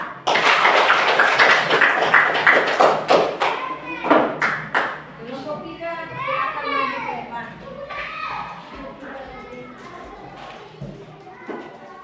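A classroom audience claps for a student group during a Christian religious education lesson, a busy burst of many hands that tapers off as children's voices and chatter take over.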